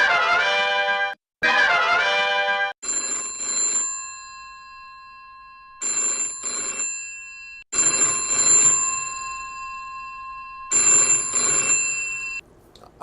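A telephone rings repeatedly on an outgoing call through a novelty bat phone, loud bursts of ringing tone separated by short gaps, with a shorter warbling tone at the start.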